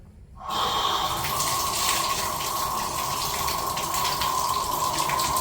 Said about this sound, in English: You're ready to run your water.